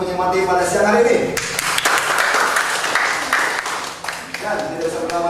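A training-week audience gives a burst of loud, dense applause from many hands in a hall, swelling for a few seconds before fading, with a voice over the start and end.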